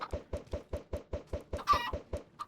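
Minecraft chickens cluck in a steady, evenly spaced run of about ten short, close, moderately loud calls, with a brief brighter burst near the end.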